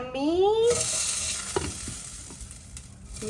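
Two dried red chillies hit hot oil in a tempering for vadiyala perugu pachadi, giving a loud, steady sizzle with light stirring clicks.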